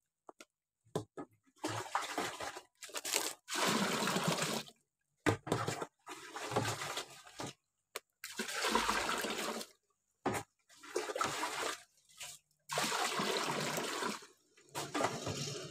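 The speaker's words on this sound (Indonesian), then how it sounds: "Kita buang airnya sambil membuang kulit kacangnya." Water poured off in repeated splashing bursts while washing peanuts to remove their skins, several pours separated by short pauses, close and fairly loud with no talk.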